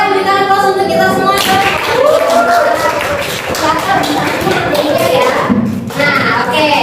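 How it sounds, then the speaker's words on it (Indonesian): Students applauding in a classroom during a chemistry lesson on acid-base identification, a dense burst of clapping over a few seconds with children's voices talking and calling out throughout. "semuanya boleh berikan aplaus untuk kita semua"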